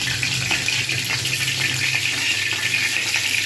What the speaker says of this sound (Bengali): সুতরাং এবারে ফুলকপিগুলোকে প্রথমে ভেজে তুলে রেখে দেব